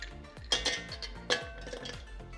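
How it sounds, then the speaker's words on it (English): Ice cubes clatter into a blender jar, a few bright clinks and knocks landing close by over a faint hum. "in a blender jar, we'll take few ice cubes"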